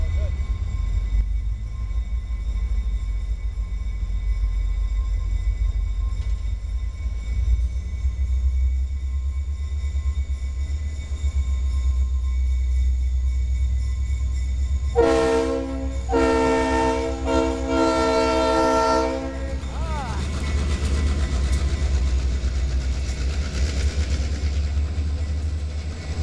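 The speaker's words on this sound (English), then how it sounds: "The one thing they did bring back was loaded coal trains on this line." A loaded CSX coal train rumbles steadily past on the Housatonic Railway line at Pittsfield, Massachusetts, a low continuous roar of wheels and cars, with a loud multi-tone horn blast about midway that lasts several seconds.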